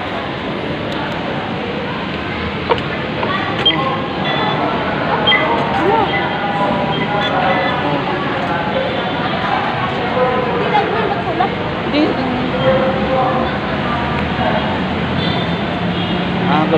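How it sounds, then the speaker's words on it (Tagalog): Crowded MRT station ambience at Pasay Rotonda, Pasay City: steady murmur of many voices and footsteps with rumbling rail noise underneath, continuous and close throughout. "Dito na kami sa Pasay Rotonda Station MRT. Daming tao."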